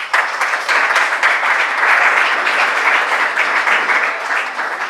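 Audience applause at a Christian music awards final, a dense, steady wash of many hands clapping that holds loud and even throughout.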